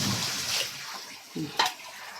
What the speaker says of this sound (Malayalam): ഇനി വേകാൻ ആവശ്യത്തിന് നമ്മൾ വെള്ളം കൂടെ ഒഴിച്ച് കൊടുക്കും.